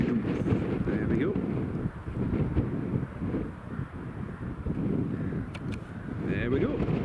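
Storm Ashley wind buffets a microphone at Newcastle Airport with a steady, rough roar and gusty rumble throughout, while someone talks over it and a faint tonal whine of aircraft rises in the background.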